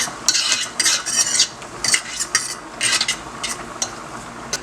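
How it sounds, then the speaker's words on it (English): Half an onion gets stirred in a pan for a Bajan macaroni pie, a metal spoon scraping and knocking against the pan in quick bursts over a faint sizzle, close and fairly loud. "And I'm just going to stir."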